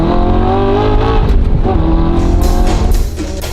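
An Audi R8 sports car driven hard, its engine roaring loud and sustained with steady harmonic drone and gear-change dips, close up, ending with a sharp transient and fading tail; no talking.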